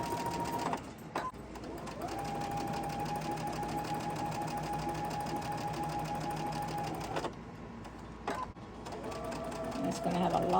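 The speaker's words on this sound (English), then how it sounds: "You're just going to let the sewing machine take it in." A sewing machine runs steadily as it feeds fabric through, with a rapid mechanical whir and a couple of short pauses where the stitching stops and restarts, while someone talks over it.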